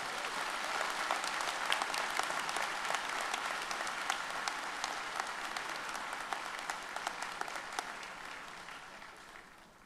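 A commencement audience applauds at a fall graduation ceremony, a dense, sustained wash of many hands clapping that carries evenly for several seconds before tapering slightly.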